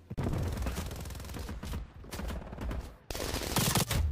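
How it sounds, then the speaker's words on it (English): Dense rapid gunfire and bursts of shooting fill a Call of Duty multiplayer match, loud and nearly continuous, with brief pauses and a heavy final volley. "There's people shooting at me the moment I spawn."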